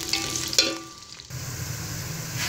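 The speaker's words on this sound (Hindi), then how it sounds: "इसमें मैं अनियन डाल दूँगी कटी हुई और इसे अच्छी तरह फ्राई कर लूँगी लाइट ब्राउन होने तक" Chopped onions hit hot oil in a home kitchen pan, giving a steady soft sizzle close by, with a couple of brief stirring clinks early on and no talking.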